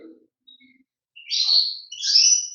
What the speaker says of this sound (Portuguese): o timbrado espanhol é um pássaro de canto